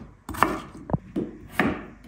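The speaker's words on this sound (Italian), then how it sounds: "Ora taglio le carote a pezzi grandi." Knife chopping carrots and potatoes into large pieces on a cutting board, four sharp separate knocks at an uneven pace, close and clear with no talk.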